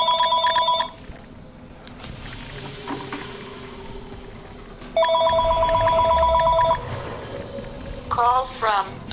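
Repeated electronic phone ringtone for an incoming call in the Mortal Kombat fighting game, three bursts of bright warbling tones separated by quieter game ambience and faint talk.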